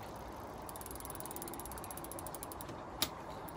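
A 20-inch Forme Kinder MX kids' pedal bike in blue gives a steady run of fine, rapid ratchet clicks from its freewheel, close and fairly quiet, with one sharper tick near the end and no talking.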